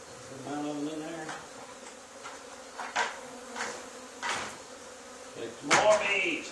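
A swarm of honey bees buzzes continuously in an old barn, close and steady, broken by several sharp knocks and thumps, with a brief voice near the end.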